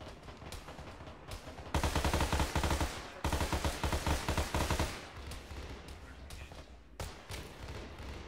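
Dense bursts of automatic gunfire in an ArmA 3 military battle, rapid loud rattling volleys that swell for a few seconds and then thin out into scattered shots, with no talk over them.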